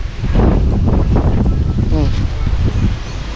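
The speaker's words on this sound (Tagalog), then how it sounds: "Lakas ng hangin." Strong wind blowing outdoors, a loud rumbling gust buffeting the microphone with rustling, while people talk over it.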